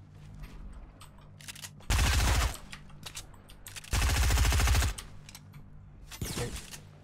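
Two long, loud bursts of rapid automatic gunfire from the Fortnite video game, each lasting roughly half a second to a second, separated by quieter game ambience with a few faint clicks.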